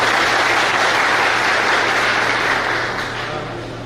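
A hall audience at a disaster volunteer training inauguration in Guna claps to welcome the district collector, a loud dense wash of applause that holds steady and then slowly fades.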